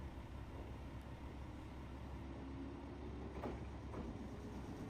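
A faint, steady low rumble of a train departing Fuchu station in Japan, distant and continuous, with no voices.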